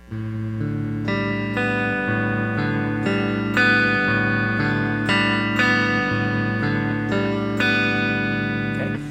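A steady fingerpicked acoustic guitar pattern (thumb, thumb, first, second finger) rings out alone, plucked notes repeating in an even rhythm with sustained, overlapping tones.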